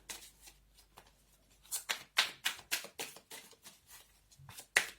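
Cards are riffle-shuffled in quick, crisp bursts, a dozen or so flurries in steady rhythm, close up and fairly quiet, with no talking.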